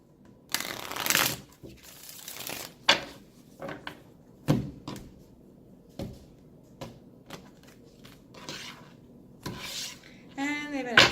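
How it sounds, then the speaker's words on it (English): Tarot cards being shuffled by hand at close range, a series of brisk riffling bursts and soft slaps separated by short pauses, ending in a fast, rattling riffle. "One more shuffle"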